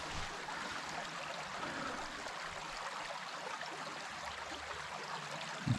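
Stream water in Sleeping Giant Provincial Park, Ontario, flowing from a small pond under a bridge, a soft steady rushing wash, faint and constant, with a brief low bump near the end.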